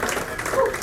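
Brief audience applause at a live music performance, a short burst of scattered clapping from a crowd, mixed with faint voices and a few tonal bits.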